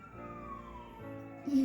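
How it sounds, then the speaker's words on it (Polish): An ambulance siren wails with a slowly falling pitch, fairly faint and distant, as it passes; a louder tone rises at the end. "karetka przejechała"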